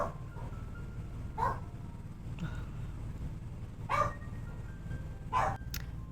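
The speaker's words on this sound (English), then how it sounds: "That's Sammy barking" A dog barks three times in separate short bursts, spaced a second or more apart, over a steady low background hum.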